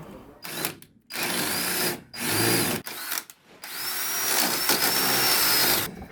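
A power drill bores into timber on a classic wooden boat under restoration, whirring in several short bursts of varying length separated by brief pauses, then settling into one longer, sustained run. The drilling is close and clear, with no talking.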